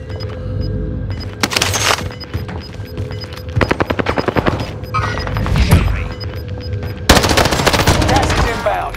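Gunfire in Call of Duty Warzone on Rebirth Island, loud bursts of rapid automatic fire alternating with single heavy shots and booms, close and punchy with brief pauses between volleys.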